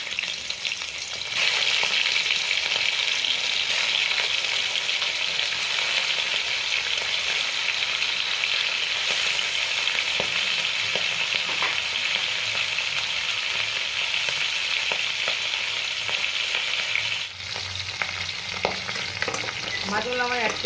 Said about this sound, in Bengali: আমি যে ইলিশ মাছের নুন হলুদ মাখিয়ে রেখেছিলাম, তো মাছগুলোকে ভেজে নেব।